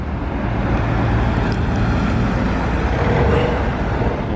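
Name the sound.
Porsche GT3 RS phase 2 driving through Monaco hairpin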